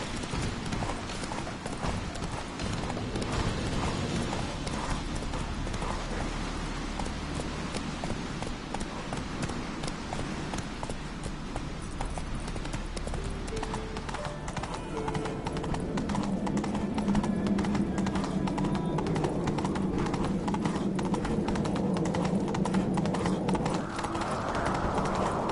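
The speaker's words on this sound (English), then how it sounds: "Whoa there, Roach" Hooves of the horse Roach clip-clop steadily through the whole stretch in The Witcher 3, a continuous trotting rhythm at close range, with faint rain and ambient game sounds beneath and no talk.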